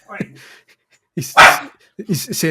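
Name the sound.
dog barking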